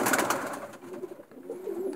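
Pigeons coo softly in a loft, low throaty calls repeating close by over faint rustling and shuffling.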